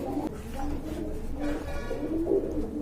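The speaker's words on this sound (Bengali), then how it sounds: "এক জোড়া ব্ল্যাক লক্ষা দেখতে পাচ্ছেন, মাশাআল্লাহ টোটালি কোয়ালিটিফুল কবুতর।" A pair of Black Lakha pigeons coo in low, throaty bursts, several gentle warbling calls close by against quiet surroundings.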